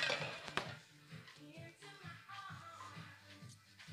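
Soft wet stirring and scraping of spaghetti with anchovies and puntarelle being tossed and creamed in a pan with a little water, with faint clinks and low background voices murmuring throughout.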